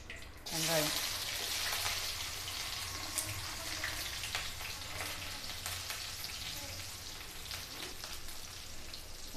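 Chopped onion hits hot oil with mustard seeds and curry leaves for an okra sambar, setting off a loud burst of sizzling that settles into a steady, close crackle and hiss, with no voice heard.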